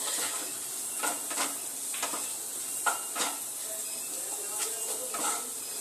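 Small diced potatoes frying in a little oil give a steady soft sizzle and hiss, broken by a few sharp clinks of a utensil against the pan.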